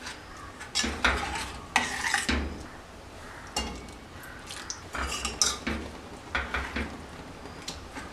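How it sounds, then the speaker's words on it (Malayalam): A spoon stirs and scrapes repeatedly against a pot of cherupayar curry just after thick coconut milk is added, with irregular clattering knocks over a low simmering background. "ഇത് നന്നായിട്ട് മിക്സ് ചെയ്ത് കൊടുക്കുക"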